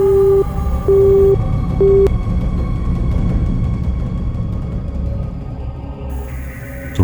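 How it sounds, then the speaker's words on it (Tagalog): A phone line cut off mid-call gives a busy tone: three short, loud electronic beeps in quick succession, then a dark, low droning background that carries on alone. "Naputol ang linya."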